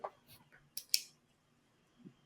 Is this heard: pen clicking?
yes